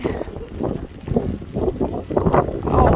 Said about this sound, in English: so strong to be holding your umbrella against the wind